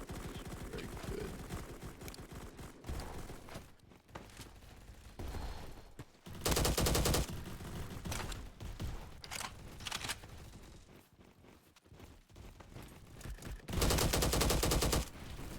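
Automatic GLK gunfire in the video game Bad Business comes in loud, dense bursts separated by short gaps, with scattered single shots and distant background shooting between them.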